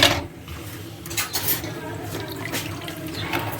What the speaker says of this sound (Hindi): बेसन मिक्स करने लगे हैं इसमें।